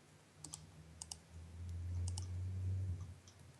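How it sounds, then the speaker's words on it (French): Several sharp computer mouse clicks in small pairs and clusters, faint and close, over a low steady hum from a nearby appliance. "J'entends tes clics de souris."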